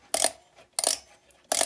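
A Westclox Spur clock with a detached or broken mainspring gives three short, bright metallic rattles about a second apart, like loose metal shaking inside the case, close and clear.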